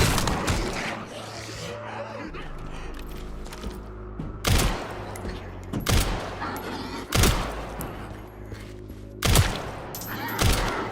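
Shotgun blasts in the survival horror game Resident Evil Requiem boom out as four loud, sharp shots spaced a second or two apart over a low rumbling game background.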